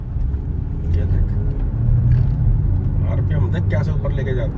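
Kia Seltos 2026 with a DCT gearbox pulling through its revs, a steady rumbling engine drone over road noise that rises and swells, with people talking inside the car.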